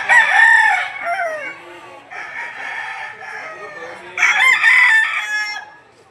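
A sweater gamefowl rooster crows repeatedly at a Batangas livestock auction market, loud and close, with several long strained calls separated by short pauses and a louder final crow.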